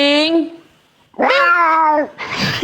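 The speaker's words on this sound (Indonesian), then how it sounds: "Kucing." A cat meows loudly and close by, giving a short cry, a pause, then a longer drawn-out meow, followed by a brief noisy burst at the end.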